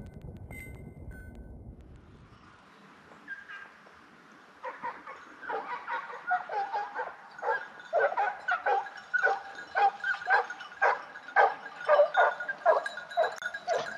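Hunting dogs reaching a wild boar shot during a driven hunt, barking in rapid, overlapping bursts that build from a few yelps into a steady, excited chorus at moderate distance in the open.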